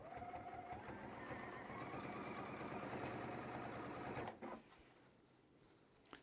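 Sewing machine top stitching a tote bag, a close steady motor whir with needle chatter running for about four seconds, then stopping into quiet.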